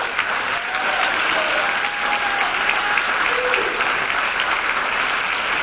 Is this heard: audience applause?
yes